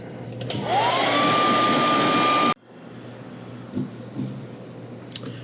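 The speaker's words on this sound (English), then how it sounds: "And we'll give that a heat set." Heat gun setting airbrushed paint on a metal shad fishing lure, a loud close blowing whoosh with a whine that climbs to a steady pitch, running for about two seconds before cutting off abruptly, leaving faint handling noises.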